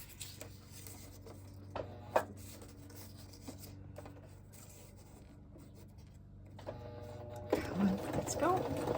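A sewing machine stitching strips of paper, book page and lace, whirring steadily and softly up close with a few clicks and rustles, and a voice talking over the louder final seconds.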